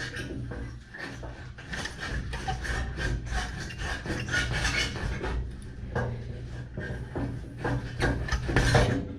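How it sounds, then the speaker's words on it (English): Close, steady rasping strokes of a saw cutting through fiberglass body panel material on a 1970 Plymouth Road Runner, repeated back-and-forth scraping with short pauses, no talk. "I may be sawing through fiberglass here also."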